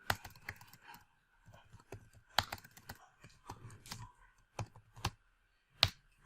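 Someone types on a computer keyboard in short irregular bursts of close, crisp key clicks with pauses between them, ending in a firmer press of the enter key, quiet and without talk.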